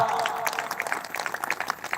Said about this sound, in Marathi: त्या मेंढक्यांच्यासाठी एकदा सगळ्यांनी टाळ्या वाजवा